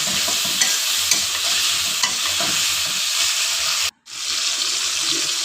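A tomato curry with tengra fish, salt and green chillies hisses in a pan with a dense, continuous sizzle under soft stirring scrapes. The sound briefly drops out for a moment before resuming.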